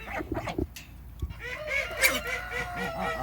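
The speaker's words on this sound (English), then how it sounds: "Hey, you stupid geese. Leave them little piggies alone." Geese honking at a petting zoo where piglets are kept, a few close loud honks and squawks over a steady bed of farmyard noise.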